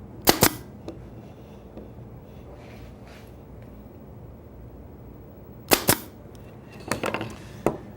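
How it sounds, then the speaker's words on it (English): A 22 gauge pneumatic pin nailer running on compressed air drives pins into wood: sharp close pops with short air hisses, one pair at the start, then a later cluster of three or four quick shots in a quiet room. "is with a pin nailer. This is, I believe, a 22 gauge. It runs off compressed air."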